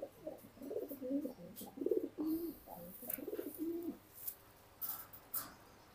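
Repeated low cooing calls of an adult pigeon with wart disease, a few soft throaty phrases close by, with faint rustling and light noises between them.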